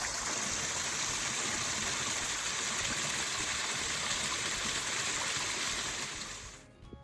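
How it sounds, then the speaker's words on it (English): A small waterfall along a trail in the Rock Run Nature Preserve in Stout, Ohio, pours in a steady, broadband rushing roar that holds constant and fairly loud before dropping away at the very end. "We did find a little small waterfall along the trail."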